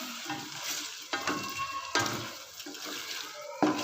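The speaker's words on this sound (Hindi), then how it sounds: "अब हम इसको अच्छी तरह से मिक्स कर लेते हैं और मज़ीद हम इसको भूनते हैं।" Chicken korma being stirred and fried in a pan, with a steady sizzle and occasional scraping stir strokes, close and moderately loud, no talking.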